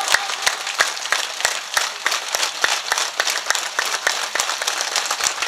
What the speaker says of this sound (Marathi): सर्वांनी मोठ्या प्रेमानं जोरात फक्त एक टाळी वाजवायची माझ्यासोबत.